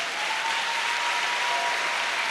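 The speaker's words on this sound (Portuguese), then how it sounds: "Pode aplaudir o Senhor." Church congregation applauding together, a steady dense wash of clapping filling the room at even loudness throughout with no pauses.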